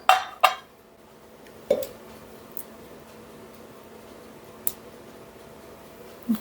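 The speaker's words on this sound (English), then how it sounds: "I'll crack in 2 eggs into your bowl" Two eggs cracked into a mixing bowl while making date and wheaten scones, heard as a few sharp, close taps and clinks spaced apart in a quiet kitchen.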